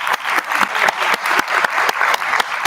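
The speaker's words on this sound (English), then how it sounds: "Another round of applause for them." An audience at a closing panel on educational equity applauds the panelists, a steady dense clapping that fills the whole moment, close and fairly loud, with no talking over it.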